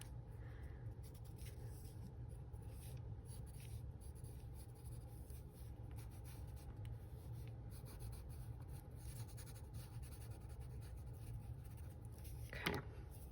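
Pencil scratching steadily across paper in a seaside-themed journal, a continuous close, soft rasp of drawing strokes with no talking.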